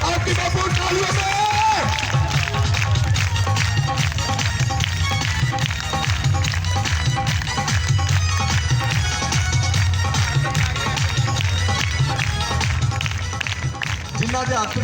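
Audience at a Christian community Christmas gathering clapping to welcome a guest, a continuous loud wash of applause with a steady beat underneath and a voice speaking over it.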